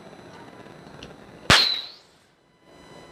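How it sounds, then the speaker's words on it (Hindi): A plastic Diwali rocket flare gun fires once with a sharp, loud crack, followed by a bright whistling hiss that fades over about half a second, then quiet. "तो ये गन ये ऐसे चलती है। देखा ना आपने, ये कितनी तेज़ गई और इसकी आवाज़ कितनी तेज़ थी।"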